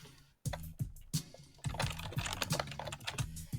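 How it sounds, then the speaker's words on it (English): Fingers type on a computer keyboard, close and clear, a quick irregular run of key clicks after a short pause, with no voices. "you're going to type in the email"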